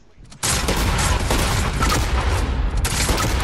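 A gunshot in a video game from a flintlock pistol, opening with a sharp loud blast that rolls into a sustained roar of continuing game noise and explosions, with no speech.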